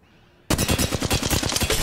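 Automatic weapon fire in Apex Legends kicks in abruptly after a quiet half second, a loud, steady stream of rapid shots rattling close for the rest of the moment.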